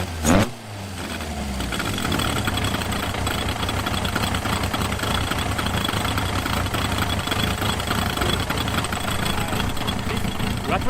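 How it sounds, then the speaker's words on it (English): A drift car fitted with a brake balancer fires up with a short burst, then settles into a steady, loud idle with a rough, rattling mechanical texture that holds unbroken for about nine seconds. "I start my motor."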